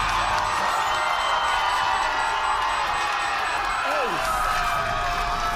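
Esports arena crowd at a G2 versus Sentinels tournament match, a loud continuous roar of cheering and chanting filling the whole stretch, with a commentator's voice over it.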